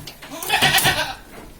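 Goats bleat on a goat farm, several overlapping calls rising to a loud, dense chorus in the middle and then fading, with a faint voice near the start.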